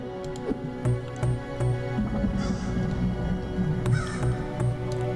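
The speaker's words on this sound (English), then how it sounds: "Can I shoot that bird?" Crow cawing repeatedly in a pixelated action game, sharp calls at an irregular rhythm over a steady low game background hum.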